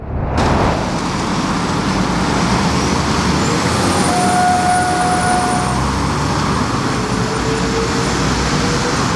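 A new Belarusian-built city bus on route 302 rolls along a road in Kryvyi Rih, giving a loud, steady roar of engine and road noise, with a faint whine rising midway and no voices.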